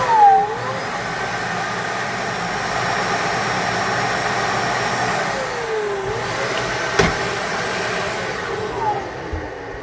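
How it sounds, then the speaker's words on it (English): A new vacuum cleaner runs continuously over a carpet with high and low points, a loud steady motor whine that rises and dips slightly as it is pushed along. "my carpet's kind of hard to vacuum anyways because it has a lot of high points and low points"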